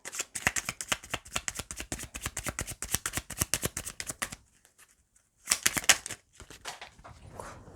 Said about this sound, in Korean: 마지막으로 시크릿 가든 카드 그리고 C 멜로디 카드 조금 더 뽑아볼게요.